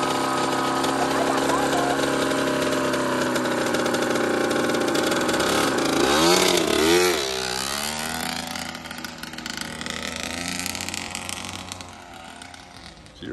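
A Kawasaki KX85 two-stroke dirt bike with a frozen clutch runs loud and buzzy. It revs up, dips and wavers midway, then settles to a lower, rough idle near the end.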